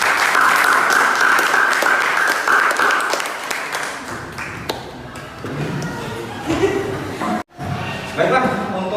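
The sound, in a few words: audience applauding a group presentation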